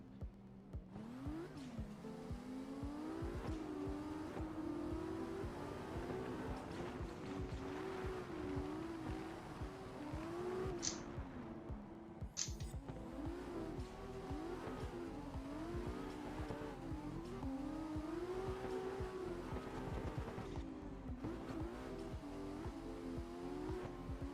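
A race car engine in a racing video game revs hard, its pitch climbing and dropping repeatedly through gear changes in a loud, unbroken drone with occasional tyre squeal.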